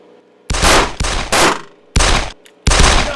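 Gunfire inside a shoot house comes as four or five loud, close bursts of rapid shots, each about half a second long and separated by short pauses.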